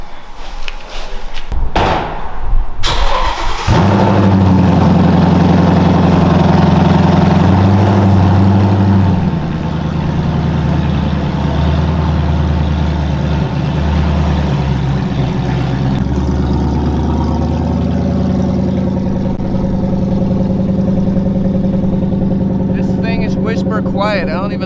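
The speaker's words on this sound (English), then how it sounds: "This is essentially open headers with cats and you can barely hear the car." A Ford Mustang S550 idles with open headers and catalytic converters, a steady low, even rumble close by after a sharp slam near the start, with a voice talking over it.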